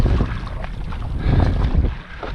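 Stand-up paddleboard paddle strokes in ocean water off Dana Point, with wind buffeting the microphone and a steady wash of water under repeated splashing pulls, fairly close and continuous.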